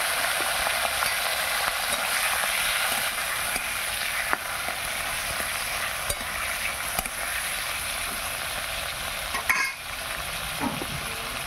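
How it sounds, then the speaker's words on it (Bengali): Fish fat sizzles and crackles in hot oil in a wok, a steady, close, dense frying hiss with small pops, and no voices throughout. "কড়াইয়ে তেল দিয়ে দিলাম, তেল গরম হয়ে গেছে। এবার মাছের তেল দিলাম।"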